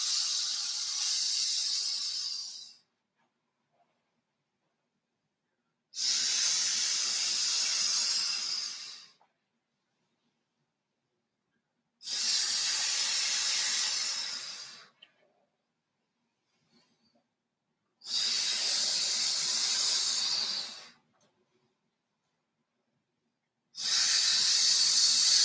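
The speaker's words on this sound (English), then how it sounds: "as you make the sound, the S sound, you exhale grief" Long breathy hissed S sounds exhaled during a qigong breathing exercise, five bursts of about three seconds each separated by quiet pauses, close and steady.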